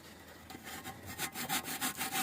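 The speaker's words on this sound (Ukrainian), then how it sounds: "Починаємо чітко пиляти по наших намальованих лініях." A hand saw cuts through an aerated concrete gas block, with rhythmic rasping back-and-forth strokes that grow louder and more regular, about four strokes per second, close and dry.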